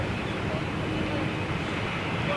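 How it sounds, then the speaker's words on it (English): A BOAC Boeing 747 with Rolls-Royce RB211 engines roars steadily at a distance, a broad continuous rumbling jet noise filling the whole stretch without breaks. "Familiar, distinctive sound of the RB211."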